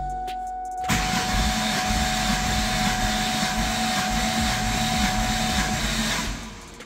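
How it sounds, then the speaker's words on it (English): A 2004 SVT Cobra engine cranks over on the starter during a compression test, intake manifold removed, a loud, steady churning drone that starts abruptly after a moment of quiet and runs evenly before tapering off. "crank it over"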